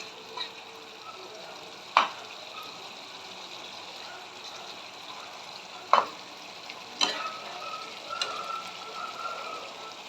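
A pan of egg curry simmers with a low, steady bubbling hiss, broken by a few sharp utensil taps spaced several seconds apart.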